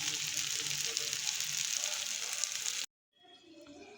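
Masala for homemade misal frying in a pan, a close, steady hissing sizzle that runs unbroken for about three seconds, then cuts out abruptly before a quieter sizzle returns.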